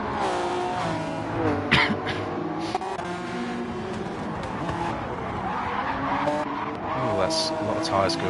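Race car tyres squeal and skid during a racing video game on the Trial Mountain track, a continuous engine drone beneath them while a commentator talks over the action.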